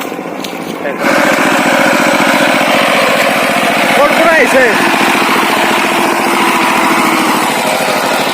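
A loud, steady tractor engine drones and chugs nearby while ploughing a field in Assam, through the whole stretch, with a person briefly speaking over it.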